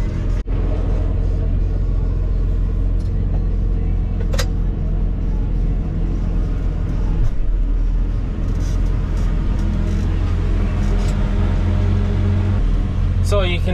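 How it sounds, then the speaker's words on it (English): A maize harvester head cuts and gathers tall standing maize stalks during an Irish harvest, giving a steady, loud mechanical rumble and drone throughout with occasional sharper knocks, under intermittent talk. "So you can see as the maize head catches it and cuts it"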